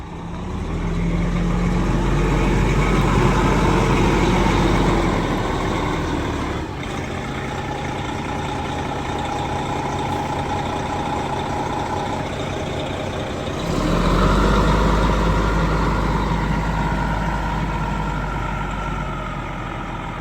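A Prevost coach bus with an oil leak and a stuck brake light switch idles nearby, a steady low diesel rumble whose loudness dips in the middle and swells again toward the end, with no voices.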